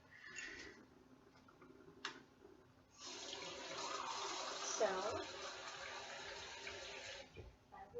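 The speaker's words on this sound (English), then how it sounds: "I will just run you some water." Tap water runs in a steady broadband rush for several seconds indoors, starting abruptly and stopping near the end, with a brief spoken word at the start.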